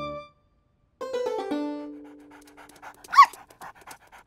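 Cartoon puppy from a children's show panting in quick rhythmic huffs after a brief tonal cry and sliding voiced sounds, fairly close and moderately loud with no talk over it.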